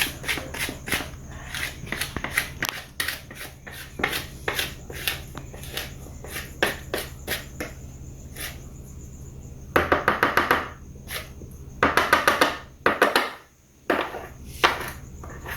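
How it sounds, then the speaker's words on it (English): A spoon scrapes and knocks against the sides of a mixing bowl of coconut sheet cake batter, giving repeated short close taps and scrapes in irregular bursts, with no talk. "I'm just scraping down the sides of this."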